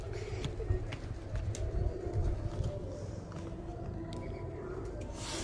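Pigeons at a loft of tumbler breeds like Kalsira and Giribaj coo in low rolling murmurs, layered with faint chirps and background hum, several birds close together with no talk.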